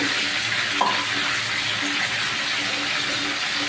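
Chopped native tomatoes with tamarind and turmeric cook in a pan, giving a steady, close bubbling sizzle with faint stirring scrapes throughout.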